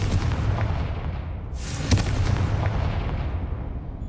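Confringo blasting spell from Hogwarts Legacy exploding as one loud boom with a sharp crack near two seconds in, over a steady rumbling game background.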